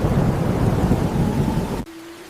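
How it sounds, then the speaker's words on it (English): Heavy rain pours with a deep rumble of thunder rolling underneath, loud and close, then cuts off abruptly, leaving a faint steady tone. "A storm is coming!"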